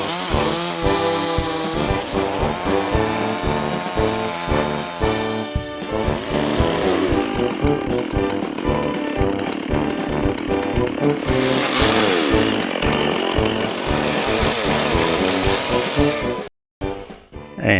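A chainsaw carving a wooden effigy roars almost continuously as it cuts into wood, loud and close, its pitch wavering with the load before a brief cutoff near the end.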